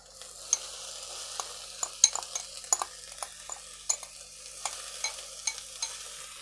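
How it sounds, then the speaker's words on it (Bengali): Chopped chicken frying in a pan for fried rice, a steady close sizzle broken by repeated light clicks and scrapes of a utensil stirring every half second or so. "এগুলো একটু ভালো করে এর সঙ্গে ফ্রাই করে নেব।"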